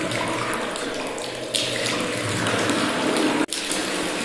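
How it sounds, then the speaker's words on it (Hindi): Water pouring steadily from a bathroom tap, a continuous close splashing rush with a brief dropout near the end and no voices. "अंदर से पानी गिरने की आवाज आ रही थी।"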